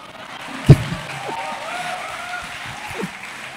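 A church audience listening to a pastor claps in a soft, scattered spread. One sharper clap stands out near the start, and a voice carries on beneath the clapping.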